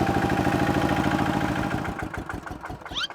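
An engine idles steadily in the open, then throbs unevenly as the vehicle is put into gear, with a brief high squeak or whine near the end and no talk over it.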